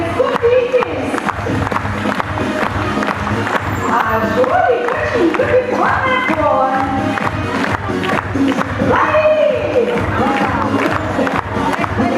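An audience at a dolphinarium in Koktebel cheers and applauds Petya the performing dolphin, with continuous loud crowd noise, clapping and shouts throughout.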